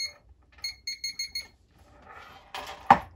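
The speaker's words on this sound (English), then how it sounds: "it gives you not only a vibration, but also a ping" A Kuman KW30 metal detector pin pointer beeps in a quick series of five clear electronic pings near the microphone, followed by rustling handling noise and a sharp knock.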